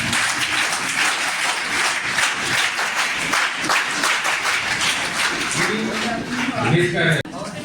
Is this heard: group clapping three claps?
yes